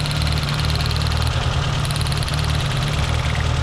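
A car engine idles steadily and close by while a CV joint boot is replaced without removing the driveshaft, giving a constant low hum and rumble with a faint higher whine on top.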